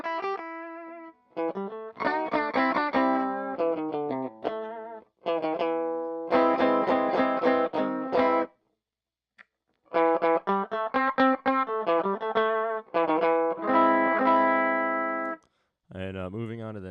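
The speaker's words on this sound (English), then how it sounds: "You just have this mild overdrive." An electric guitar runs through a TC Electronic Alter Ego V2 delay pedal set for mild overdrive, playing phrases of chords and single notes with a gritty edge. Brief silent pauses separate the phrases, and no one talks.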